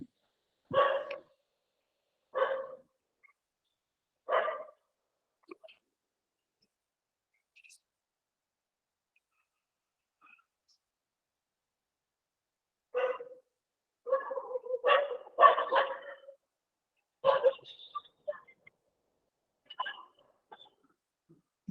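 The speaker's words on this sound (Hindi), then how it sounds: "सुबह सुबह भौंकने लग गए यार ये लोग।" Several dogs bark in the morning, sharp separate yelps coming in scattered bursts with long silent gaps, then a busier cluster of overlapping barks, moderately near but not loud.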